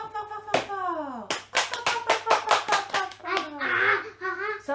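Young children clap their hands in a quick run of sharp, loud claps, close by, with a voice briefly calling out between the bursts.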